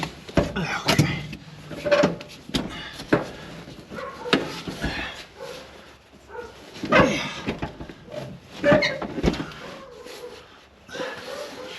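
Dogs bark in a house, set off by nearby racket, in several bursts spread through the clip, moderately loud and mixed with faint background noise and occasional voices.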